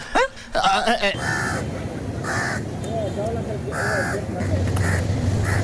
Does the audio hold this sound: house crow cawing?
yes